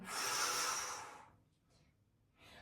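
A deep exhale during a breathing and hamstring-stretch exercise: one long, breathy rush of air lasting about a second, close to the listener, followed by quiet and a fainter breath at the end.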